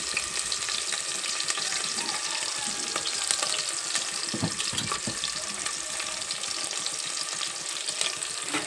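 Onions and green chilies fry in a pan for a chicken curry, a steady dense sizzle with faint stirring scrapes running the whole time, close and fairly loud, with no voices.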